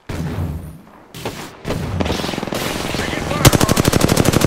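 Machine gun fire in the video game Apex Legends begins with scattered shots and impacts, then becomes a long, rapid, loud automatic burst with evenly spaced rounds, set among other game sounds.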